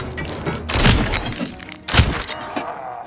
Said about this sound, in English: You can just one-shot them with the pistol.